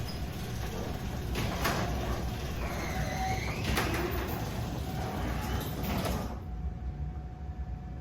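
A garage door opened with a MyQ smart garage controller rumbles mechanically in a steady, fairly loud run for about six seconds, then stops, leaving a quiet background.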